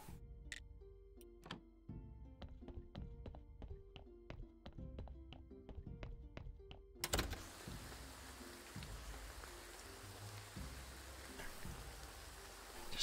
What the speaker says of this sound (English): Just sit out here in the rain and wait for everybody.